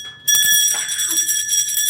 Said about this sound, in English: this bell is really not doing it for me.